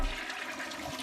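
A toilet flush as a sound effect: one short rushing, gurgling surge of water, loud and close, with no voices over it.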